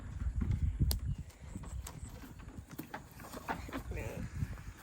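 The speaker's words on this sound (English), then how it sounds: "Her name's the horse Goby" A horse moves near farm animals and chains, its hooves clip-clopping in an uneven series of soft thuds beneath frequent nearby talk.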